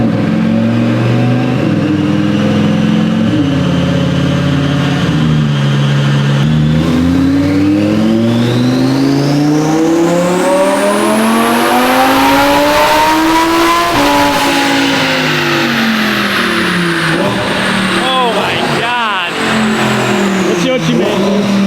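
A powerful twin-turbo Lamborghini Huracán STO engine revs hard on a dyno and climbs in pitch, holding high before dropping back, with turbo whine and voices faintly under the roar.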